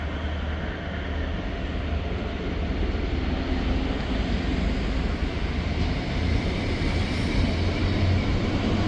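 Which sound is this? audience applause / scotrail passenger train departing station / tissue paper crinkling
scotrail passenger train departing station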